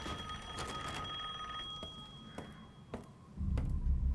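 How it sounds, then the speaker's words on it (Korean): An old telephone bell rings in the VR version of Resident Evil Village, a series of quiet, regularly spaced metallic trills, with a low rumble rising underneath toward the end. "전화가 오는 소리가 들리죠?"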